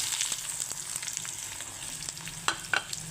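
Onion, ginger and garlic fry in hot oil in a wok, giving a soft, even sizzle with a couple of light utensil clicks near the end and no talking.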